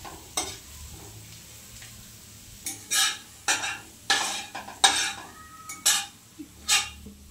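Chopped carrot, ginger and garlic frying in a pan for chow mein, with repeated sharp spatula scrapes and stirring strokes over a soft, steady sizzle, close up and with no talking.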